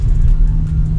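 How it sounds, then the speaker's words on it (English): A car on a rally stage drives close by, trying to cut in; a loud, steady engine rumble fills the short moment, near and continuous. "this car's trying to cut us off"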